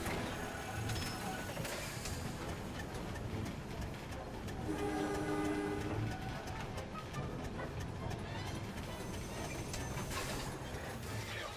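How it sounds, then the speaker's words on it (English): A train in the remastered video game MediEvil rumbles and clatters steadily on the rails, with a brief whistle-like tone in the middle and a game commentator's voice faintly underneath. "So now we can hop on the train."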